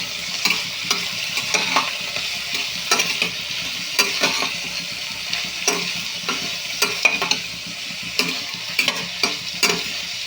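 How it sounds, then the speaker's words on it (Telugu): Mixed vegetables fry in a pan for vegetable upma, a continuous close sizzle broken by frequent sharp clicks and scrapes as a spoon stirs them. "ఇవి బాగా నీట్గా ఫ్రై చేసేసుకోవడమే అండి"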